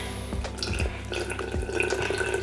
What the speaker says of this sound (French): vous allez mettre le double en eau